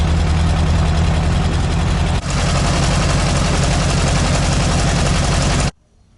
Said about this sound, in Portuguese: o que a Bianca acabou de mostrar foi a marcha lenta que ficou regulada